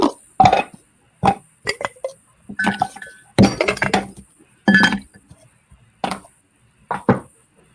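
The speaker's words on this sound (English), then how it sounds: "Some ice from my handy thermos." Ice cubes from a thermos clink and knock into a cocktail glass during the mixing of a rum cocktail with Angostura bitters, a string of sharp, bright chinks in clustered bursts with short quiet gaps.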